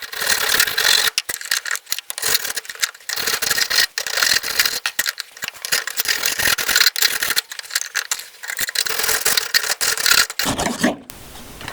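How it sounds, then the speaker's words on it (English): A half-round wood rasp shapes a Wagtail squeegee handle in steady, continuous rasping strokes, loud and close, with brief pauses between passes and no talking. "get a wood rasp, a half circle one like this, and we'll sand this"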